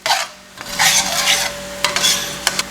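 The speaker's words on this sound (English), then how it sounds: "Stir this in and just watch that loosen up the sauce a bit." A spoon stirs milk into a mustard sauce in a pan, making close, wet scraping swishes with a few clinks against the pan.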